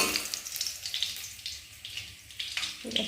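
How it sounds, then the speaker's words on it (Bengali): Pointed gourd (potol) fries in oil in a pan over a low gas flame, giving a soft crackling sizzle with irregular pops and a faint watery hiss close by. "পটলটাও আমার সুন্দর করে ভাজা হয়ে গেছে"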